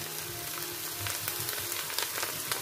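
Red palm oil goes into a pan of simmering spinach for Cameroonian eru with chicken, bringing a steady soft sizzle and crackle with light bubbling, close but fairly quiet.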